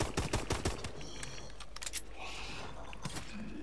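Pistol gunfire in the video game Call of Duty: Advanced Warfare Exo Zombies, a quick volley of sharp shots up front followed by scattered, fainter shots and game noise.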